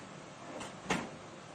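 A door closes in a home kitchen with a single soft, dull thud, preceded by a faint brush of movement, over low steady room noise.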